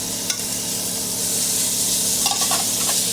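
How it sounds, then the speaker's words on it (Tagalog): Onion and garlic sauteing in a hot pan, a steady close sizzle and hiss with brief stirring scrapes, no voices. "So, saute na tayo ng onion and garlic."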